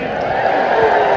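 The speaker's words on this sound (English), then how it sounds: "Give yourselves a cheer." A large arena crowd cheers loudly at a live musicals show, with a dense, steady roar of many voices that fills the whole moment.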